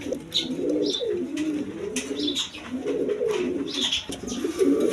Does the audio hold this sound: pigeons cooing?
yes